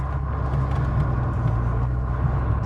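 An Alfa Romeo 164 V6 idles with an uneven rhythm, a close, steady low engine rumble with slight pulsing variation that keeps going throughout, with no talking.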